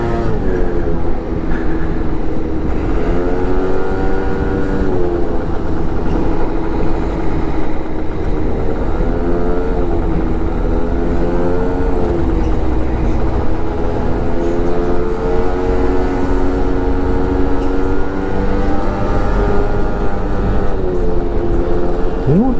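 Learner motorcycle engine droning steadily while being ridden through town, harmonic pitch rising and falling gently with throttle changes, continuous and close throughout with wind noise and a rider talking over it.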